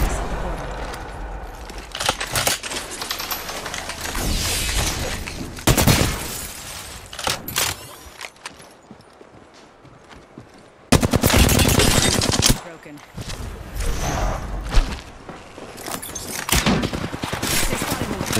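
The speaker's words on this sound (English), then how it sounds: "Why the whole turret just shooting me for no reason?" Automatic turret fire in the video game Apex Legends comes in loud, dense bursts of rapid shots. They break off and resume several times, and a player talks between and over the volleys.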